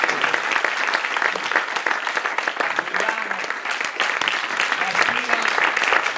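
Loud, dense applause from an audience at a documentary film preview carries on steadily, with faint voices murmuring beneath the clapping.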